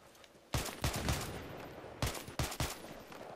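SVD sniper rifle shots in Battlefield 3: a few sharp, loud reports in two clusters, each crack followed by a short decaying echo, separated by quiet game ambience.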